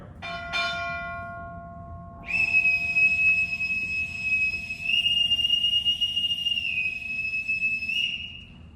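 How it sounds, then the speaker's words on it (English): A boatswain's pipe pipes a retiring US Navy senior chief petty officer ashore at a retirement ceremony, preceded by ringing bell strikes, then a loud, sustained shrill whistle that holds and wavers for several seconds before cutting off. "Bosun, pipe Senior Chief Sorensen ashore"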